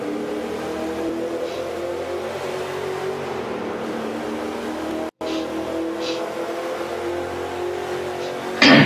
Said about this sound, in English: This is a car race. Muscle car versus all the other muscle cars.